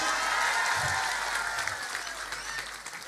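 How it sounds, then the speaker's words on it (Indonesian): A crowd claps steadily, a dense wash of applause that slowly fades a little toward the end. "Tepuk tangan tuh Hercules."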